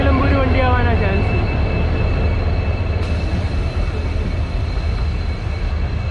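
Kottayam–Nilambur passenger train at Angadipuram railway station in Kerala, a loud continuous rumble of the train with a brief descending squeal near the start, heard from close by.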